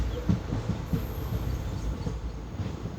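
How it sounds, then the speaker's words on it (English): The Kannur Bengaluru Express pulls out of Shoranur station after an overtake, a steady low rumble of rolling wagons with faint wheel clatter, heard from inside the train and fairly quiet. "And we depart from Shoranur after an overtake."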